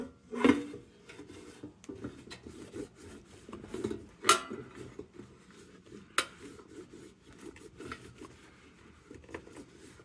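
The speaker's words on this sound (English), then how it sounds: "let's wipe her off real quick just to see what we're dealing with" A microfiber cloth wipes down an old Prisco No. 2 lantern, giving soft rubbing and scuffing strokes with a few sharper metallic clicks, close and fairly quiet, with no talking.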